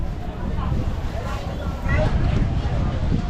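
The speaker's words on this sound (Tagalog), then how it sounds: "Medyo malakas ang hangin at kulimlim." Strong gusty wind under an overcast sky buffets the microphone with a steady low roar that swells louder partway through, while people talk in the background.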